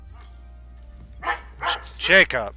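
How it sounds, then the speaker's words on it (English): A pet dog barks several times in quick succession, close by, mixed in with a voice calling out. "And you can hear my dog in the background."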